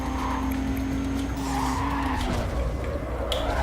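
A tuner car in Need for Speed Carbon skids sideways, its tires screeching loudly over a constant roaring engine throughout.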